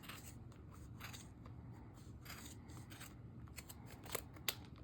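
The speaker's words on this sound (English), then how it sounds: "So put your scissors right into the center there, and there's a little groove that you follow, and you're going to cut." Scissors snip through yarn along the center groove of a knitting loom, a run of soft, close crisp cuts and scrapes with a couple of sharper snips near the end, no talking.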